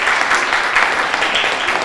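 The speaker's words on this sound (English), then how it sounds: "Come on, give them a hand clap." Audience clapping at a Martin Luther King Jr. Day celebration held by the Cape Verdean Association, a steady patter of many hands sustained evenly throughout.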